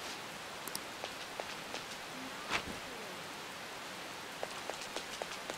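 Steady hiss of heavy rain in Persona 5 Royal with scattered drops and light patter, continuous and fairly close, no voices.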